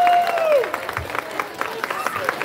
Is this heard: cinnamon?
no